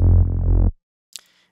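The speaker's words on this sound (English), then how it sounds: "bass 3 is playing much lower frequencies than bass 4" A deep trance synth bass layer sounds one short, loud, buzzing low note lasting under a second, then cuts off abruptly, followed by a faint brief click.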